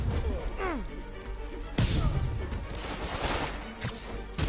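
Gunfire in the video game Spider-Man crackles in several bursts with crashing impacts, while a voice talks in Hindi over the action.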